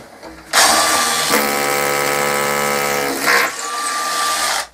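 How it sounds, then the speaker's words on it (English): A power drill bores a hole through wooden workbench stock, its loud motor whine rising sharply and holding steady with strong harmonics for several seconds before easing off, close and alone. "drill another hole through."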